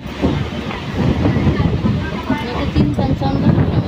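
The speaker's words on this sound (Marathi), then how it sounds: "आता सुटले ट्रेन" Konkan Railway train pulling away from the station at Roha, a steady broadband rumble and rolling clatter with wind buffeting, continuous and fairly loud, with voices talking over it.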